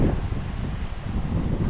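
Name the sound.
wind blowing outdoors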